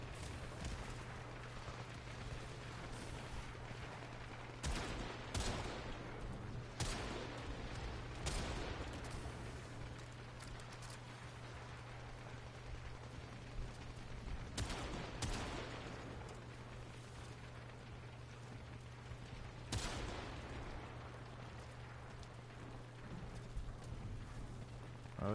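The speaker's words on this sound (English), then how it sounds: "there's somebody else shooting at me down there" Scattered gunshots from enemies firing at the player in the Warframe video game, irregular single cracks and short bursts at mid distance over a steady low hum and busy game noise.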